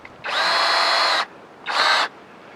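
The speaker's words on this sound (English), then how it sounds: "Then I'll drill 3 more holes." A power drill whirs steadily for about a second while boring a hole during a honeybee relocation, stops, then runs again for a shorter burst, loud and close.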